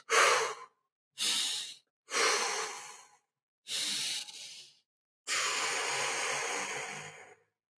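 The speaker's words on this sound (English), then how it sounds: "we can do something like making longer exhalations." Five long, breathy exhalations in sequence, close and airy, separated by short silences, with the final breath the longest, part of a slow breathing exercise.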